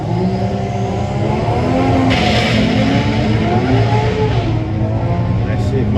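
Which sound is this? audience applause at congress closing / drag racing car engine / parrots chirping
drag racing car engine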